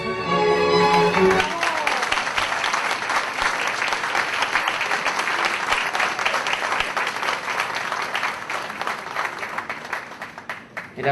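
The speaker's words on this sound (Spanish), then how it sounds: "El aplauso" Dense, sustained audience applause at a lecture or academic event, loud and close, beginning just after a brief spoken closing and continuing evenly for about ten seconds.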